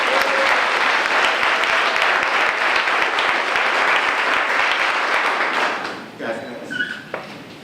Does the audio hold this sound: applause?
yes